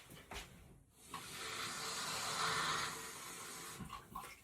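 About 180 ml of water pours from a container into a pot holding white vinegar for a bún chả dipping sauce, a steady close rushing splash lasting a few seconds between quieter clinks.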